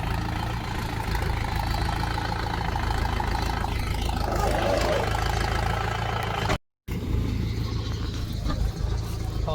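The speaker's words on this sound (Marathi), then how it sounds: "त्यामुळे आला ट्रॅक्टर" A tractor engine idles close by on a farm with a steady low rumble throughout, broken briefly by a short cut to silence.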